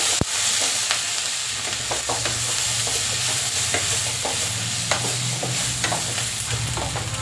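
Onions nearly done frying in a pan for a spiny gourd sabzi give a constant close sizzle, broken by occasional light stirring taps and scrapes.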